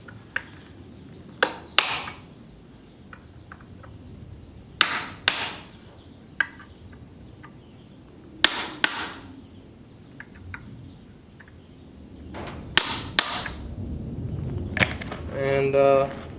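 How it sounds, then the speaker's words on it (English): Sharp metallic taps ring out in small clusters, a hammer striking a punch into metal, with quiet pauses between blows and faint birdsong in the background. "now I'm just gonna center punch it"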